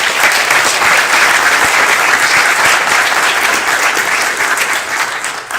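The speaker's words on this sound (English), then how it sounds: "I think we need to give you another round of applause" Audience applause at a City of Bethlehem press conference, a loud, full round of clapping from a crowd that carries steadily for several seconds and eases slightly near the end, with no talk on top.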